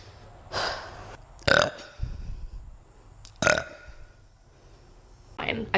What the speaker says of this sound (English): Rate my burp.